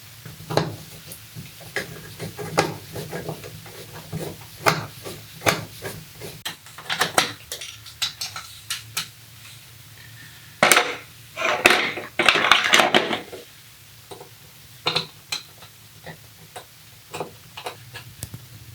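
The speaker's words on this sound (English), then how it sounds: "let's get some screws into their holes" Screws are driven into the holes of an electrical box in a Victorian house, a run of small sharp clicks and ticks in uneven rhythm, with brief louder scraping bursts, close up and without talk.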